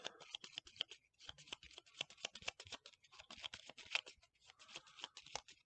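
Game cards being shuffled by hand during a solo tabletop session of Rocketmen, a steady run of quick crisp riffling and snapping taps, close and fairly quiet with no talking.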